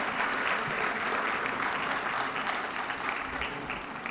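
Steady, sustained applause from an audience at a police department awards ceremony honouring event staff, an even wash of clapping throughout.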